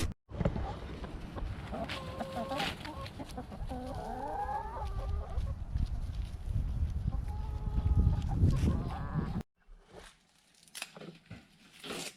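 Hens cluck and chatter steadily over rustling and handling noises nearby, ending with a few scattered sounds after a brief pause.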